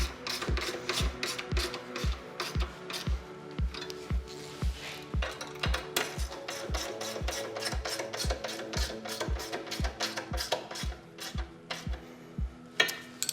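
Allen key and 10mm wrench fastening side case brackets for Kenai motorcycle side cases, a steady run of rapid metallic ratcheting clicks close up with small clanks of hardware throughout.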